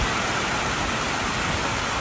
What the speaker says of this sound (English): This is torrential Texas downpour.